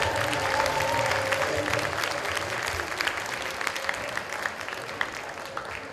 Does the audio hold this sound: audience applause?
yes